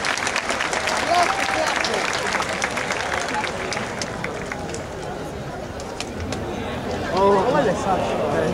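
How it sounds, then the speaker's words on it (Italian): Loud applause and cheering fill a hall at a comic convention cosplay contest for a Vegeta contestant, dense continuous clapping with crowd noise throughout, swelling slightly near the end. "Applauso fortissimo."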